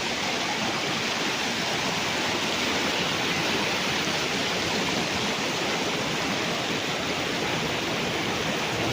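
A river flowing beside a farm lot in Liliw, Laguna, a dense, continuous rushing wash of moving water, steady and fairly loud throughout with no pauses.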